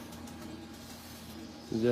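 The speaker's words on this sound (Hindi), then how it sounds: "ये देखिए, ये कबूतर है।" Pigeons coo softly on a Lahore rooftop, faint and low beneath someone talking nearby.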